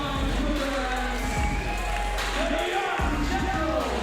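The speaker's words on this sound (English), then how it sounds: "Crowd behind Vinny, I love it." Wrestling crowd cheering for Vinny at an indoor show, a loud, continuous roar of voices with shouts rising and falling over a low rumble, a commentator's voice mixed in.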